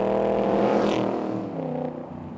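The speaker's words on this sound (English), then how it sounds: "We've got the 5-litre Coyote V8 from Ford. Again, we've got a Ford badge on this, and it sounds glorious." Ford 5-litre Coyote V8 in a new Shelby Cobra continuation car, a loud, steady engine note with rich low harmonics that swells briefly then eases off, heard alone without talk.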